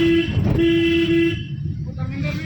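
Steady car horn sounds during a driving lesson: a short toot, then a longer sustained blast lasting under a second, loud and close, with road noise around it and no talk over the horn itself.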